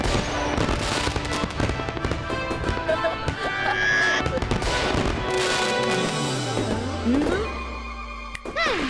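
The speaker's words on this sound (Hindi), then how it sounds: "पटाखे चलाना पर संभल कर।" Diwali firecrackers go off in a dense, loud barrage of cracks and bangs with whistling, rising streaks. Voices can be heard in the mix.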